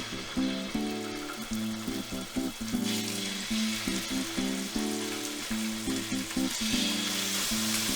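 A salmon fillet fries in hot cannabis-infused olive oil over medium-high heat, giving a steady, close sizzle with crackling pops throughout and no talking.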